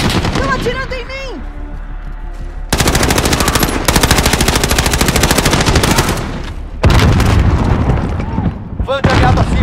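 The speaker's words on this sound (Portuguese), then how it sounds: "Estão atirando em mim." Sustained automatic gunfire with bursts and booms in the Call of Duty Modern Warfare video game, loud and dense, with brief in-game radio voices at the start and end.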